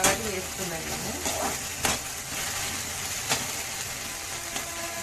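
Ingredients for benda kaya pachadi, an okra chutney, sizzle and crackle in hot oil as a continuous dense fry, with a few sharp utensil scrapes against the pan.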